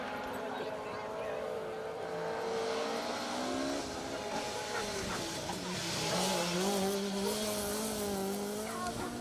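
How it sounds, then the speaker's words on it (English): A Ford Escort Mark II rally car runs an asphalt special stage, its engine revving and rising through the gears at a moderate distance, with a commentator talking over it. "There's Stefan Morris, Mark Ammons alongside in the Mark II."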